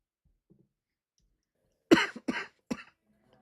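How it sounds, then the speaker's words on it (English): Three harsh coughs in quick succession, close and fairly loud, after a near-silent stretch. "This damn cough."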